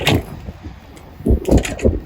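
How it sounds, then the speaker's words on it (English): A short clunk and rattle of a metal compartment door opening on a 2019 Ford F550 service truck, followed by a few louder thuds and knocks as it swings and settles. "Coming back this way, we open this compartment."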